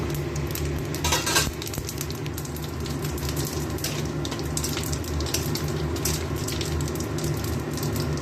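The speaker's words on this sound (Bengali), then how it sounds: "ফোড়নটা একটু ভাজা ভাজা হোক।" White cumin seeds frying in hot oil for a tempering give a steady, low, continuous sizzle with faint clinks of utensils, close and unbroken throughout.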